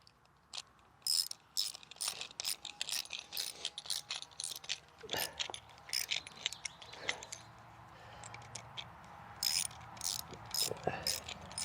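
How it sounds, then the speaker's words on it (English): Metal cam lock fittings click and clatter as they are locked onto a 1 inch irrigation pump, a series of sharp, irregular snaps and rattles close by over a quiet background. "Let's pop the other cam lock on here. We'll lock it into place real quick."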